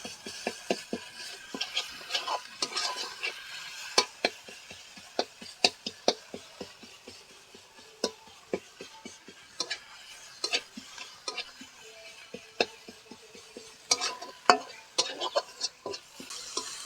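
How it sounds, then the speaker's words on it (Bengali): Ginger-garlic paste fries with browned onions in a pan while a spoon scrapes and stirs in repeated sharp clicks and taps over a faint, low sizzle, close and without talk. "এবার দিয়ে দিব এক চামচ আদা রসুন বাটা এগুলোকে ভেজে নেব"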